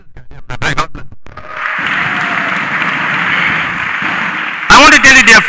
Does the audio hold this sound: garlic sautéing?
no